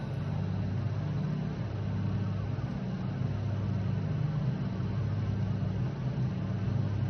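A Grumman Widgeon amphibian's piston engines roar loudly and continuously as the throttle is advanced for takeoff, a dense steady rumble with heavy low-end drone filling the whole stretch without talk.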